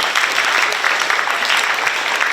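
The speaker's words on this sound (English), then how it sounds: "Let's give another round of warm applause to Rachel" An audience applauds at a youth leadership workshop, a dense, even wash of many hands clapping, close and sustained without talk.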